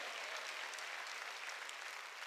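Congregation applauding during a Wednesday church worship service, a dense, steady wash of many hands clapping at once that stays loud and even from start to finish.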